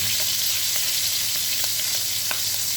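Large shrimp sizzle steadily in a hot pan for a Chinese-style lo mein, a continuous close frying hiss with a few faint pops and no talking.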